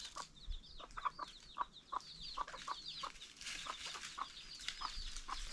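Chickens clucking close by in a farmyard with a rooster among them, a rapid series of short clucks and chirps repeating irregularly over a quiet background, no voices.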